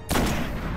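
A single gunshot in Destiny lands as a headshot: one sharp, loud crack with a brief noisy tail that fades within a second.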